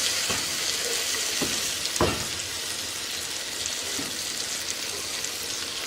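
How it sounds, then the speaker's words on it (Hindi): Eggplant (baingan) frying in a pan for a sabzi, giving a steady close-up sizzle throughout, with a few sharp clinks from stirring and no talking. "अब हम इसको 5 से 6 मिनट अच्छे तरीके से भूनेंगे"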